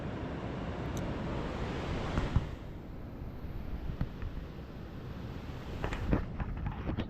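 Sea waves roll onto a beach in Andhra Pradesh beside a camping tent: a steady, broad wash of surf with wind buffeting the microphone and a few louder surges, no talking.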